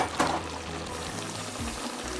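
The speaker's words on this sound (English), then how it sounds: "We like it a little bit more soupy, so we're going to add a little bit of water to this." Water is poured into a hot pot of chicken and squash, a short splash and hiss at the start fading into a steady low sizzle and bubbling, with no talk.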